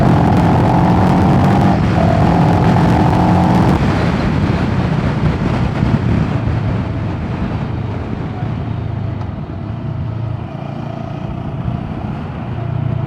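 A CFMoto CL-X motorcycle accelerating hard, its engine note climbing in pitch before a gear change near four seconds, then pulling again under heavy wind rush, loud and close.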